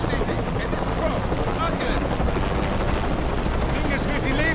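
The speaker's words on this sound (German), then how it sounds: "Ich habe Helikopter immer gehasst." A helicopter in the video game Shadow of the Tomb Raider makes a loud, steady rotor roar that fills the whole stretch, thick with dense game action noise.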